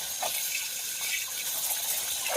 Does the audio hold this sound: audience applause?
no